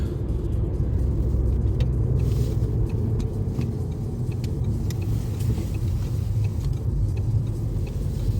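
Steady low engine and road rumble from inside a car driving home from work through a residential neighbourhood in Poland, continuous and fairly loud with no talking.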